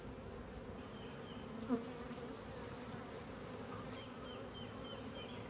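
Honey bees buzz steadily at an open hive during a late-season nectar flow: a soft, continuous drone of many insects with one brief close knock partway through.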